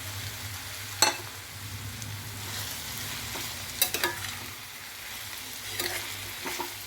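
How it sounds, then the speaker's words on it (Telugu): Cut cucumber pieces and fried fish pieces stirred in a pan for a dried fish curry, a soft continuous sizzle under a low hum, with a few sharp spatula scrapes and knocks spaced across the clip. "ఇప్పుడు మనం కట్ చేసి పెట్టుకున్న దోసకాయ ముక్కలు వేస్తున్నాము"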